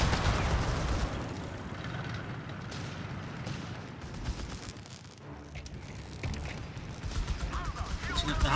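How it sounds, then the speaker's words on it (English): An incendiary rifle grenade goes off in Company of Heroes 3 amid a World War II battle, a dense rumbling blast buried in continuous gunfire and explosions while a commentator talks over the din. "And another incendiary rifle grenade there."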